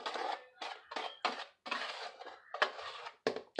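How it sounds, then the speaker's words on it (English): A whisk scraping and clinking against a bowl as seasonings for extra-crispy chicken tenders are mixed, in quick separate bursts of rattling strokes with brief pauses between them. "I'm just using a whisk. Just going to mix them all up."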